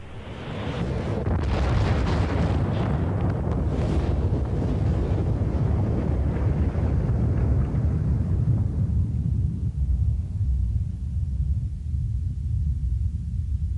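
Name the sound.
supernova explosion sound effect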